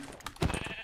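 A sheep in Minecraft gives a short, faint bleat lasting under a second, heard alone.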